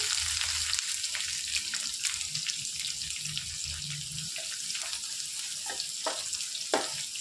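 Finely chopped onions frying with chana dal and mustard seeds for a brinjal and green pea curry, a steady close sizzle with soft crackles and occasional utensil taps.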